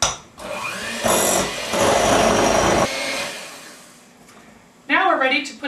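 An electric mixer beats vanilla into a sugar mixture for brittle candy bones, giving a steady loud whir that rises and dips across several seconds, with a voice speaking briefly near the end.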